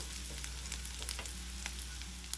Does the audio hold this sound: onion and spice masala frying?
yes